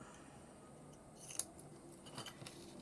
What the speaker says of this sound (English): Make sure you put your scissors away safely, Paula.